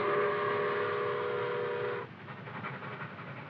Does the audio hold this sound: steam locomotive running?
yes